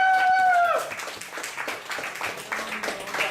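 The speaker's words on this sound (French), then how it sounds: "on applaudit à tout rompre Margot Tella" A live audience at a poetry evening, La Messe Poétique, breaks into steady applause and clapping that carries through the moment, following a brief tonal sound at the start.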